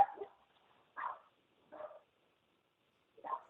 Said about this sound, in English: Shout out to the puppies in the background.